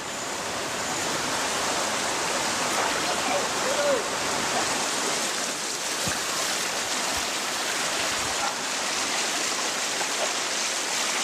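Steady broadband rushing of fast-flowing water, continuous and loud throughout, a river swollen after heavy rain close by with no pauses.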